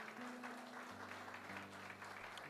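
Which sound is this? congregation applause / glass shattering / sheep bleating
congregation applause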